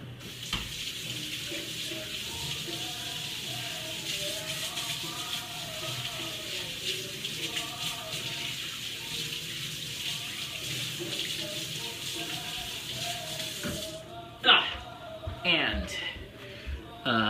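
Tap water runs steadily into a sink during washing, with people talking over the flow throughout and a few clattering knocks near the end.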